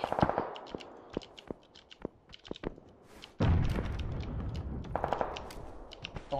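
Gunfire in the battle royale game PUBG, sharp single shots and short bursts at varying distances, some faint and far, others loud and close, over a rising layer of engine or ambient noise.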